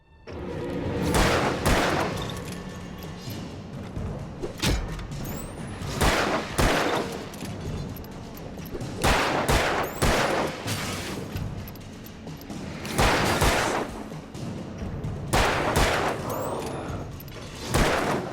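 Alan Wake gunfire: repeated loud, close shots and bursts ring out in irregular clusters across a long stretch, each one followed by echoing decay and low rumble.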